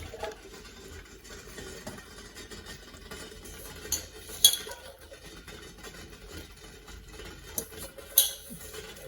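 Lentils are strained and tipped into a cooking pot in a home kitchen, giving soft scraping and patter with a couple of sharper metal clinks, close by and with no talking.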